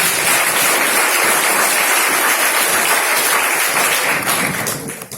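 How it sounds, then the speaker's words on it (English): An audience claps for the parents at a school prize distribution ceremony, a dense, steady wash of applause from many hands that fades away at the end. "So 3 claps for your parents"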